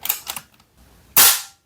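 Sharp, close crack of an FX Wildcat Compact .22 caliber air rifle firing a single shot, preceded by faint clicks of handling.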